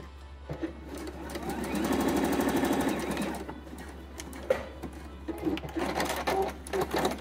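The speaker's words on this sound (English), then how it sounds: "I pushed that seam allowance to the wrong side, and I'll just stitch close to that edge" Sewing machine stitching close to the folded seam edge of a reversible swimsuit bottom, a rapid mechanical chatter that speeds up then slows, followed by shorter stitching bursts and handling noises.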